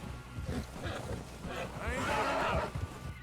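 Horse in the Red Dead Redemption 2 video game giving a short, close whinny amid hoof clops and background game sounds.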